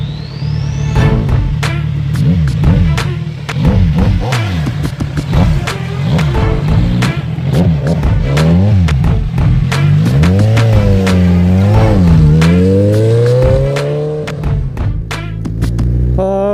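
A pocket bike engine revs hard and loud throughout a ride in cold weather, its whine rising and falling repeatedly as the throttle opens and closes, with wind noise close by and no talking.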